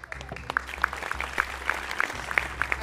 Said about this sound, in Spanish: Aplaudimos para darte ánimo.